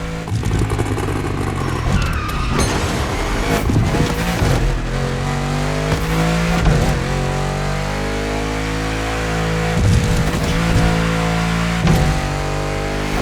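A car engine in the racing video game The Crew Motorfest on PlayStation 5, revving and roaring continuously at close range with rising and falling pitch and several sharp bursts of acceleration, with no talking.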